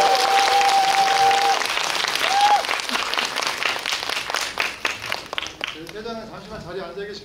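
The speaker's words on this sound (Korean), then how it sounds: "관객 여러분 그리고 이제 세 분께 큰 박수 드리면서 마무리하겠습니다." An audience applauds at the close of a Korean stage talk with three guests, loud sustained clapping that thins into scattered claps toward the end, with brief voices and a tone heard over it.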